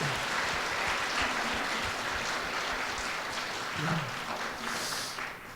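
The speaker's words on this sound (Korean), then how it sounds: "감사의 박수 한번 하십시오" Applause from a church congregation after a health lecture, a steady wash of clapping lasting several seconds and tapering off at the end.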